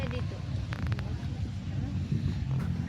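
Wind gusts across open farmland at SVD Farm in Tagaytay, a continuous low rumbling buffet against the microphone while people talk.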